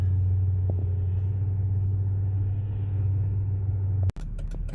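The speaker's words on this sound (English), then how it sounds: "A lot of traffic today, probably everybody coming out after the winter storms" Road traffic passing after a winter ice storm in the Austin, Texas area, heard as a steady low vehicle rumble, fairly loud and continuous, with a brief sharp break and a few clicks near the end.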